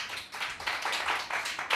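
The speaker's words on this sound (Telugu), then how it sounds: "కొట్టని చప్పట్లు." Church congregation clapping together at a Sunday service, a close, loud run of hand claps in a fairly steady rhythm, with no one talking.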